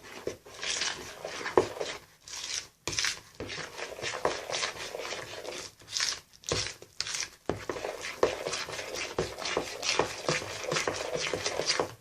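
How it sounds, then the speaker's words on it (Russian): Dry ingredients for a sweet yeast dough, including yeast and vanilla, being stirred together in a bowl: close, soft scraping and rustling strokes in irregular bursts with short pauses, no talking. "Все это перемешиваем."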